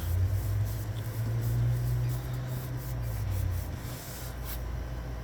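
Paper is rubbed firmly along an edge to crease it while decorating a junk journal, a steady close scraping friction over a continuous low background hum.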